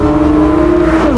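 Porsche 992 GT3 with its 4-liter naturally aspirated engine launching hard, a loud, steady high-revving wail that climbs and then dips briefly as a shift comes near the end, filling the whole moment with no talk.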